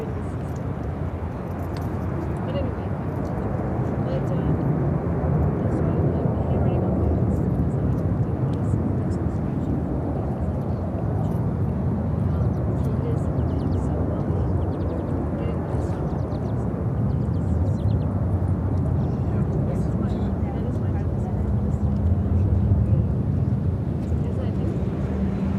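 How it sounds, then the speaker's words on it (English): A Swiss Airbus A330-300 takes off toward Zurich from Chicago O'Hare, a steady loud jet roar holding for the whole stretch with a slight swell near the end. "This is Swiss flight 7 taking off to Zurich on the A330-300"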